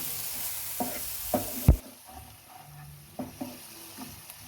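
Cheese masala pav filling with coriander being stirred in a pan, several distinct scrapes and knocks of a spoon against the pan over a quiet sizzle.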